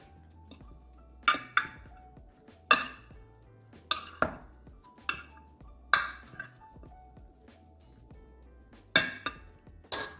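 Eggplant slices tossed in a bowl for a low-carb baked eggplant parmesan, producing a series of sharp, close clinks and clatters spaced irregularly with quiet pauses between.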